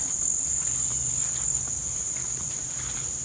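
Two honeybee hives in a July garden, one busy and one quieter, give off a steady insect drone under a persistent high, cricket-like whine, with faint scattered ticks and no talking.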